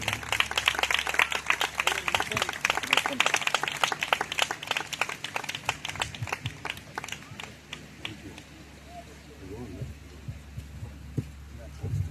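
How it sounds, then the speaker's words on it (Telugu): A church congregation claps in welcome as the preacher comes forward at an evening service, sustained rhythmic applause that fades out over several seconds. "చప్పట్లు కొడుతూ ప్రేమతో వారిని ఆహ్వానిద్దాం"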